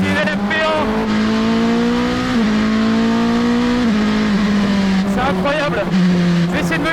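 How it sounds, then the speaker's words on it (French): Loud in-car engine note of a Rebellion R13 LMP1 race car on track, a high steady drone that rises and dips through gear changes, with someone speaking excitedly over it. "C'est une LMP1."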